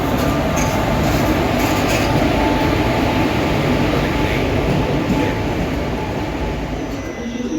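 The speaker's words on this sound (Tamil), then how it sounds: "நம்ம வண்டி வந்துட்டுருக்குங்க, மும்பை டு சென்னை போகிற வண்டி, சூப்பர் ஃபாஸ்ட் எக்ஸ்பிரஸ்." The Mumbai to Chennai superfast express rolls into platform 3 at a railway station. Its loud, close rumble of wheels and carriages carries on without a break throughout.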